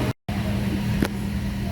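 A Toyota 4Runner engine warming up holds a high idle with a constant hum that drops out for a moment at the start and then resumes, with a faint click in the middle.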